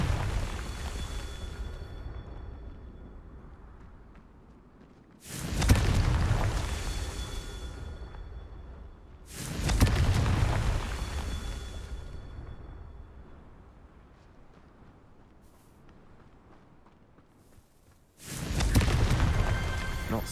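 Confringo fire spell explosions in the game Hogwarts Legacy, four loud booming blasts spaced several seconds apart, each with a sharp burst that trails off into a long rumbling fade.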